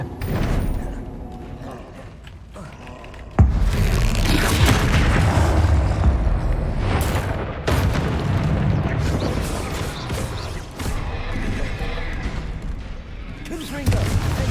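Bombarda, an explosion spell in the video game Hogwarts Legacy, bursts with a sudden loud boom, followed by sustained rumbling blasts and scattered impacts of battle that continue to the end.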